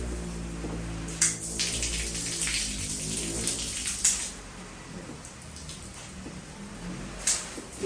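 Water sprays steadily in a hissing stream from a hose reel nozzle on its shower setting, with occasional louder splashes and a low background hum.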